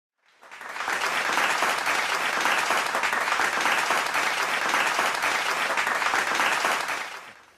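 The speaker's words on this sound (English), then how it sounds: "Yeah, thank you for the applause" Audience applause in a university lecture hall, fading in, holding as a steady dense clatter of many hands for several seconds, then tapering off, without talk.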